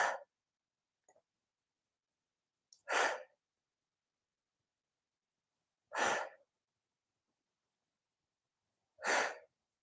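Sharp, breathy exhalations during a weighted goblet squat, three separate puffs spaced about three seconds apart after an opening one, close and clear against near silence.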